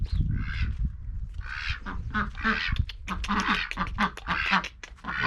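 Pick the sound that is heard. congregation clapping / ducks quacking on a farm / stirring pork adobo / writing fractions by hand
ducks quacking on a farm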